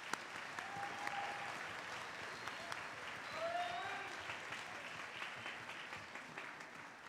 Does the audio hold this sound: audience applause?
yes